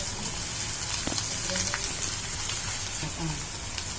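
Spices with salt, chili powder, coriander powder and garam masala fry in a pan with a dense, continuous, close sizzling hiss and faint pops.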